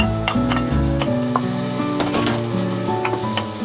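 Tomatoes sizzle and crackle as they fry in a pan during a home morning cooking session in Qatar, with a steady close hiss and scattered pops and a few clinks of a utensil stirring.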